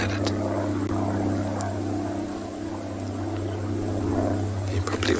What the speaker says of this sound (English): You probably also heard that aeroplane.